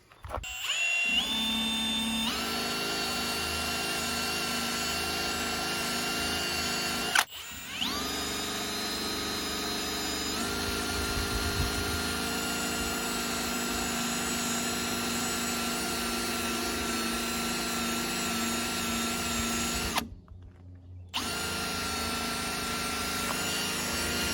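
A drill-driven decal eraser wheel grinds badge adhesive off a Duramax truck, a steady loud high whine running for long stretches, briefly stopping twice before spinning back up, with no talking.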